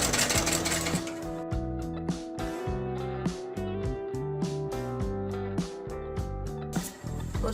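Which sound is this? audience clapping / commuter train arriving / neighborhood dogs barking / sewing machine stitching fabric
sewing machine stitching fabric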